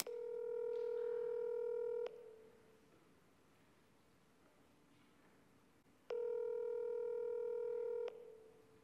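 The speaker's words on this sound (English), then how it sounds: "Make a phone call, just a short phone call." A telephone dial tone sounds while a call is being placed, with two steady electronic tones of about two seconds each, separated by a quiet gap and heard alone.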